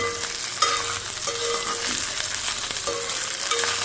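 Pieces of taro root fry in a pan for a crispy stir-fry, giving a loud, steady sizzle close by, broken now and then by short stirring scrapes. No one speaks.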